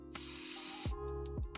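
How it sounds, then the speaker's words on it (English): Aerosol motor starter is sprayed into the inlet of a turbocharged engine conversion in a garage: one long, loud hiss followed by a few short bursts, over the low steady hum of the running engine. "Yes, I found some motor starter. So let me spray that in my inlet."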